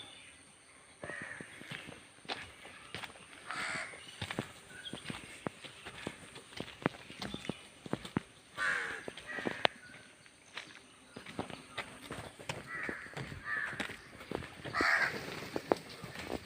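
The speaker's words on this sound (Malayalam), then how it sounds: "ഒരുപാട് കാക്കകളൊക്കെ ഉണ്ട് ഇവിടെ." Crows caw repeatedly near a suspension bridge over the dried-up Pazhassi river, several calls scattered across the scene, mid-distance and moderately loud amid outdoor ambience with footstep-like scuffs.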